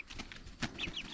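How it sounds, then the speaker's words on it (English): A mother hen and her growing chicks cluck softly in a backyard garden in late summer, with faint high chick peeps over a low outdoor background hiss. "Lastly, I thought I'd show you the baby chicks and how they're grown."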